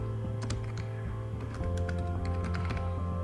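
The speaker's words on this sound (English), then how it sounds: "I will just type whatever you do" Keys tapping on a computer keyboard in a steady, close run of clicks over a constant low hum, with no talk.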